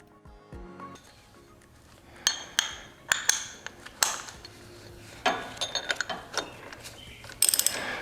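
A wrench ratchets as it loosens the oil filter on a Cub Cadet XT1 lawn tractor, with quiet clicking that builds into a series of sharp, close metallic ratchet bursts and clanks and no talk.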